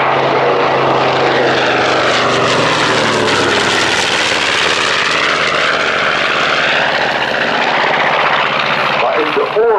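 A B-25 Mitchell propeller bomber flies a solo display at the Luchtmachtdagen air show in Leeuwarden. Its engines give a loud, continuous, rough drone that swells and shifts in pitch as it passes overhead.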